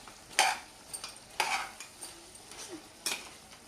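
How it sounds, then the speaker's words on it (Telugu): A spoon scrapes and clacks through mutton curry in a pan as chili powder is mixed in, several sharp metallic strokes spaced irregularly over a faint sizzle, close and quiet with no talk. "కలుపుకుంటున్నాను."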